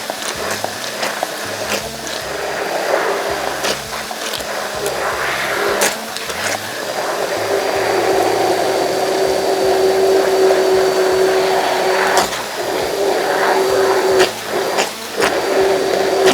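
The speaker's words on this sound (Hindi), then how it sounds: "थोड़ा सा और ग्राइंड कर लेते हैं।" A mixer grinder whirs steadily as it purees pizza sauce, a continuous loud motor drone with a shifting pitch and a few brief pauses or changes in load, with no talking.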